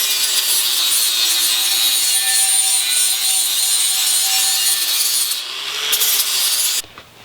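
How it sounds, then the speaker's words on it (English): A flap wheel on a power tool grinds dross off freshly cut metal for DIY boat sides, a continuous close, loud abrasive whir that holds steady before trailing off and cutting out near the end. "just take a flap wheel, clean that up"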